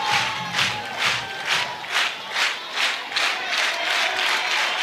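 Softball crowd at Rhodes stadium in a women's college game, Alabama against South Carolina, cheering and roaring in rhythmic swells that rise and fall about every half second, loud and continuous.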